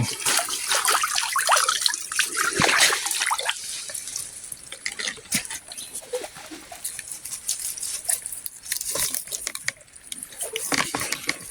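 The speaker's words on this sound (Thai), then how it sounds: "ไปเทน้ำกันครับผม เทน้ำกันอีกแล้วบัง" Water poured out by hand at a Thai fish-trap site with small rice fish and rock crabs, splashing and dripping in irregular bursts close by, with no voices.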